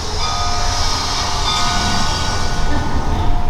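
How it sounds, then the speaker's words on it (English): A small train rumbles along steadily with a continuous mechanical whir and faint rhythmic clatter, close by and consistently loud throughout. "here's a little model railroad you can be envious of if you like those things"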